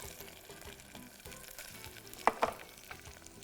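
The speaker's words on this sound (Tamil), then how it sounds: "இதை 3/4 பாகத்துக்கு வதக்கலாம்." Two handfuls of onion sauté in a pan for a fruit pulao with mint and orange, giving a soft, steady sizzle with a couple of sharp utensil clinks against the pan partway through.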